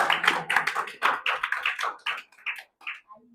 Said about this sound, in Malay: Tepuk tangan untuk Sabrina.